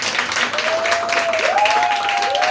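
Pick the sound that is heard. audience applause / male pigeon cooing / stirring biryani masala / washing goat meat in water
audience applause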